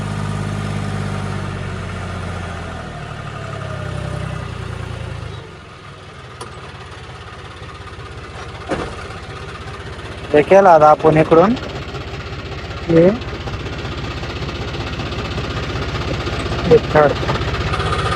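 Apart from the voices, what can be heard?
tractor engine climbing a slope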